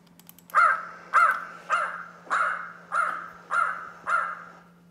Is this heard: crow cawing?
yes